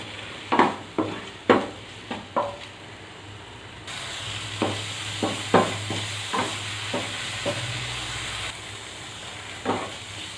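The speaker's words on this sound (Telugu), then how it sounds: "పన్నీర్ పీసెస్ అన్నీ కూడా చాలా మంచిగా ఫ్రై చేసుకోవాలి." Paneer pieces frying in a pan with steady sizzle, broken by a series of sharp clinks and scrapes of a spatula stirring, close and moderately loud.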